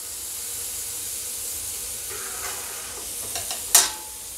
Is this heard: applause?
no